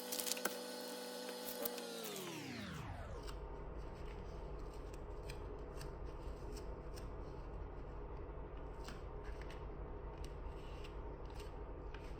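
Scissors cut out a half-scale paper bodice pattern around a side dart, giving a steady run of close, quiet snips and paper rustles after a brief falling tonal whine at the start.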